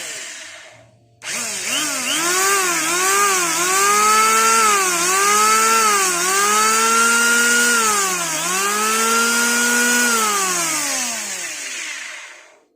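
Nissho 1900 electric wood planer running with its fan belt fitted after a bearing replacement, starting with a sharp whine that holds steady as a loud, smooth motor drone and winds down at the end.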